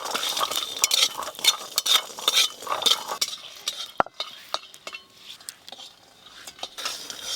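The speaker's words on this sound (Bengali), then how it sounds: "বড়িগুলো একটু ভালো করে ভেজে নেব, অল্প একটু তেল দিয়ে ভাজবো" Sun-dried lentil dumplings (bori) frying in a little oil, stirred with a metal utensil in a pan: frequent sharp clinks and scrapes over a soft sizzle, busier at first, then sparser.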